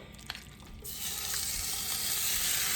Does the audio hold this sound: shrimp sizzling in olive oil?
yes